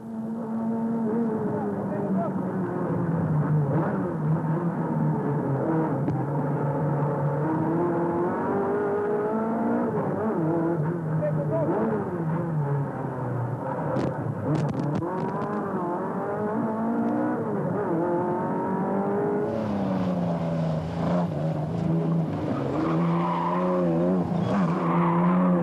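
A 1971 CG Simca 1200S race car built by Chappe and Gessalin, driven on a special stage of the Tour Auto: a continuous, close engine drone with rising and falling revs as it accelerates and shifts, with a voice speaking over it.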